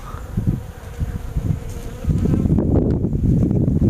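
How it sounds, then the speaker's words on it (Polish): Bees buzz steadily up close in early spring among snowdrops, a dense droning hum that grows fuller and louder partway through, with no voices. "pszczoły już mogą latać"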